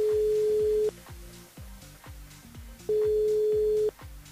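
A phone line ringback tone while placing a call during a radio broadcast: two long steady beeps about a second each, separated by a pause, over a rhythmic music bed playing underneath.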